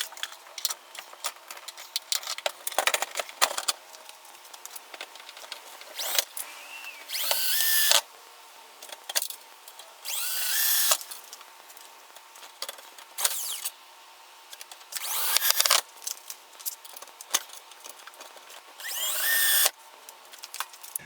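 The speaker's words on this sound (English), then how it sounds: "then I'll screw the box to the wall" A power drill drives self-tapping screws to mount a breaker box to a wall, in several short whirring bursts that rise as each screw seats, separated by quieter pauses with small handling clicks.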